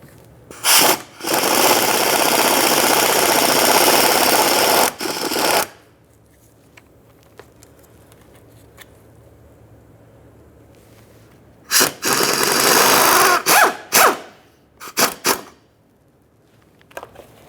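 A power tool whirs in a long run and later in shorter bursts, removing the 10mm mounting bolts from the plastic shield under a 2013-2020 Ford Fusion 2.0L, with quiet gaps between.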